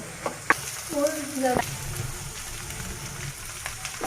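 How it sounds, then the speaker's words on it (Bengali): Fish roe fries in hot oil in a pan for a Bengali bhuna, giving a steady close sizzle throughout, with a brief voice and a few light stirring knocks over it. "এখন আমি ভালোভাবে ডিমটা তেলের মধ্যে ভালোভাবে কষিয়ে নিয়ে"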